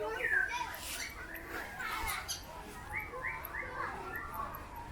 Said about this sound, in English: Oh look, there's birds.